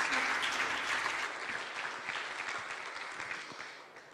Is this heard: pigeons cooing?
no